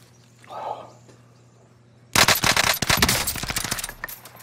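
Rapid bursts of automatic gunfire in the video game Warzone break out suddenly after a quiet stretch, loud and dense, with a voice speaking faintly beforehand.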